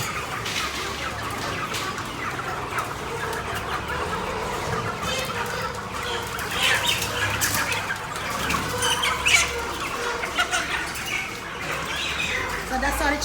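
Live chickens cluck and flap their wings in a busy, crowded poultry setting, with constant overlapping clucks and rustling close by, while people talk over the noise.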